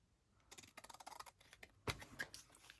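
Scissors snip through a pink printed paper sheet in a quick run of close crisp cuts, then a few more separate snips after a short pause.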